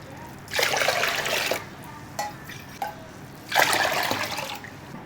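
Water is poured in two separate splashing bursts into rice and lentils in a pot for pongal, close and clear, with quiet clinks between the pours.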